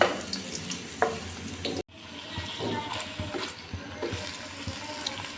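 Garlic frying in hot oil before chicken goes in for a chicken soup, a soft steady sizzle with light stirring clicks and a brief sharp cut in the middle.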